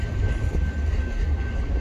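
A BNSF freight train's heavy, steady rumble dominates as it slows to a stop, a continuous low roar of rolling rail cars close by, with a faint high whine running through.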